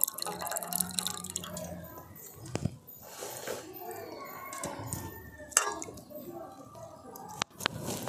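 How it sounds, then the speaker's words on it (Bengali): Mung beans are washed by hand in water, rubbed to loosen the husks, giving soft, irregular squishing and dripping sounds that continue throughout at a close, moderate level. "এইভাবে বারবার জল দিয়ে আর আমি খোসাগুলোকে ভালো করে পরিষ্কার করে নেব।"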